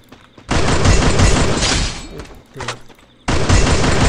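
Groza rifle gunfire in the video game Free Fire, dense loud bursts of rapid shots in two long volleys separated by a short quieter gap, close and alone.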